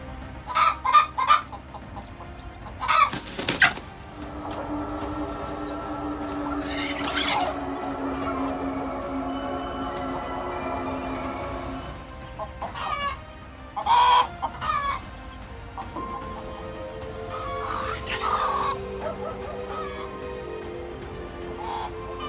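Chickens clucking and a rooster crowing in a farmyard, with repeated loud squawks and clucks over a steady background, some close and sharp, spread through the stretch.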